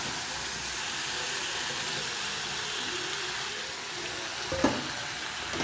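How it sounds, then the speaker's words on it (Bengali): Fried vegetables and fish heads sautéed with spices in a pan for chhyachra, a steady close sizzle and frying hiss with faint stirring scrapes and one brief clink near the end, no voices. "এরপর আমি কিছুক্ষণ সবজিগুলো দিয়েও মশলার সাথে ওই একইভাবে কষিয়ে নেব।"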